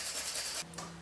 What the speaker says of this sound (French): Vous prenez donc une râpe assez fine et vous frottez la fève sur la râpe